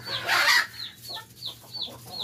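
Chickens cluck in a short series of sharp, evenly spaced calls after an opening burst of louder crowing-like squawk, close by in a coop where a black rooster is kept apart from the others.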